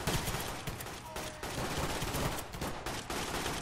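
Rapid, continuous gunfire from a Garry's Mod cops-versus-robbers NPC battle, dense overlapping shots and bursts fired without a break, loud and close.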